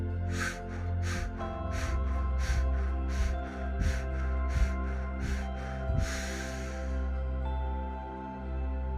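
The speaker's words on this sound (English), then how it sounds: "Fire breathing now." Rapid, forceful fire breathing during a guided energy-healing meditation, about ten sharp snorting breath bursts in quick regular rhythm, close and loud, ending in a longer rushing exhale.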